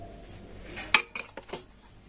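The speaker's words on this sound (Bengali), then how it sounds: "তো 2 চামচের মতো সাদা তেল আমি দিয়ে দিলাম।" A spoon clinks against a bowl while white oil is added to flour and salt for momo dough, a few light, close metallic taps spread over about a second in a quiet kitchen.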